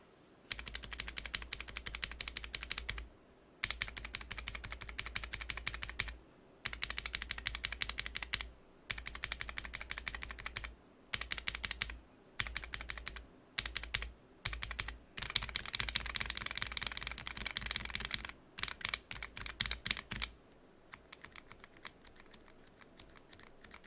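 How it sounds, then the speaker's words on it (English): Typing on unlubed NovelKeys BOX Cream mechanical switches fitted with old WASD keycaps, a close, steady stream of clacky keystrokes in bursts of several seconds separated by short pauses, with no talking. "I guess this is a standard feel for unlubed box switches"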